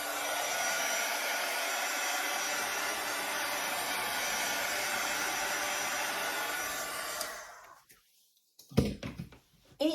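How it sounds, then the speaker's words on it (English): A Drew Barrymore hair dryer bought at Walmart blows in a loud, steady whooshing roar over an acrylic paint pour for about seven seconds, then shuts off, followed by a few light knocks and bumps. "This is a Drew Barrymore hair dryer that I purchased at Walmart."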